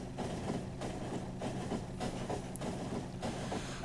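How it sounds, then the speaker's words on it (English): A fast, short train of one wagon runs in the factory-building game Factorio, giving a steady rumbling roll with faint rhythmic clatter that holds at an even level throughout. "And this is a very speedy train,"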